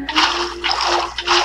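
Water is poured in three short splashy bursts with brief pauses between, close and fairly loud, with a faint steady hum underneath.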